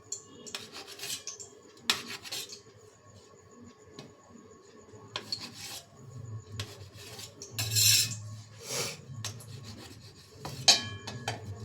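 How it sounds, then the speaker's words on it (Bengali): A knife cutting bread into pieces on a board: irregular scraping strokes and sharp taps, close and fairly quiet, with short pauses between cuts. "পাউরুটিগুলো পিস পিস করে কেটে নিচ্ছি"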